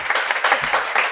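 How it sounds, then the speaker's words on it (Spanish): Studio audience applauding a guest on a podcast, a close, lively patter of hand claps in uneven bursts, fairly loud and without talk. "Un aplauso, por favor."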